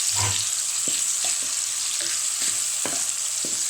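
Green capsicum frying in a pan while making white sauce pasta: a steady bright sizzle fills the background, with soft scraping stirs and light taps from a utensil recurring every half second or so.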